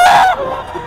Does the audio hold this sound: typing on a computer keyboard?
no